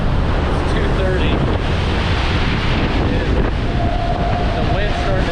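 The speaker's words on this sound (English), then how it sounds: "The wind's starting to change directions on us by the eye wall" Hurricane Laura's winds roar at the eye wall, a loud, constant rushing buffet that batters the microphone with heavy gusts and never lets up.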